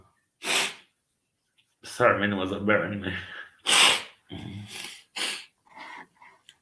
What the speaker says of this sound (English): More sneeze, hold on.